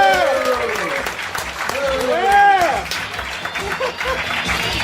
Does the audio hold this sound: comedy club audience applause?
yes